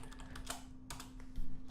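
Quiet, uneven key taps as code is typed on a computer keyboard, a short burst of clicks with small pauses between them.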